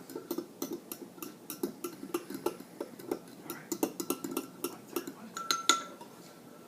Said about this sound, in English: get a fork, or whatever you want to use, and then mix it